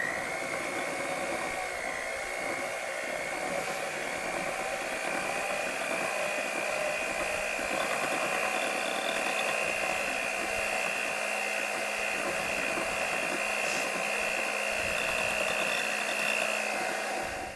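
An electric mixer beating cream cheese filling for strawberry cheesecake cupcakes, a steady close whirring hum that runs continuously and unchanging for the whole stretch, with no voices.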